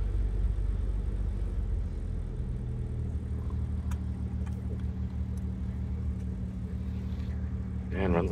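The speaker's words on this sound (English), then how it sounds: "So basically you turn the key and you hit the starter." A 1938 Chrysler Royal coupe's six-cylinder engine runs at idle, giving a steady, close, low rumble that holds even throughout.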